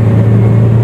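A Toyota Rush engine with ECO mode switched off revs in a brief, loud, steady low hum heard close up.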